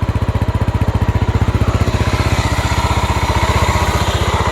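A 1989 Honda GB 500 single-cylinder motorcycle, restarted after 14 years on museum display, idling with a loud, close, steady rapid thumping pulse, alone without talk.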